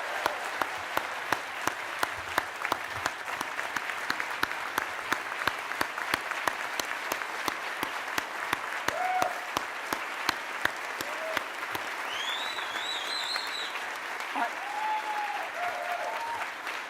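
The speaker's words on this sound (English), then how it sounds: "Let's have a big round of applause for every Metro first responder." Long, steady applause from the crowd at a Louisville mayor's State of the City address, honouring Metro first responders, with sharp individual claps standing out and a few whoops and cheers rising near the end.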